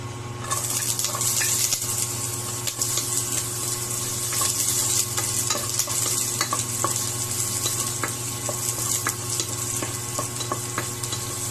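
Pork adobo sauteing in a pan gives a continuous close sizzle and frying hiss, broken by occasional scraping clicks from stirring, with a low steady hum underneath and no talking.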